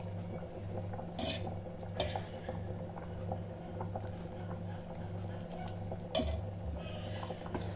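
Semolina halwa being roasted and stirred in ghee gives soft, continuous scraping and light clinking of a spoon against the pan. Faint patter runs under a low background hum, with a few sharper knocks.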